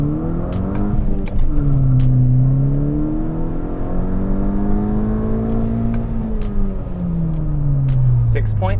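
A VW MK6 GTI with a Rev9 catback exhaust revs on a dyno run, its loud engine tone sweeping up and down in pitch throughout, with the exhaust droning close and continuous.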